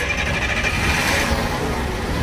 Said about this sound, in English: the BRTs have what I can describe as a high-pitched idle